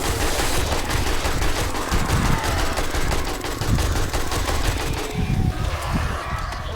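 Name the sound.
pistol gunfire in 7 Days to Die video game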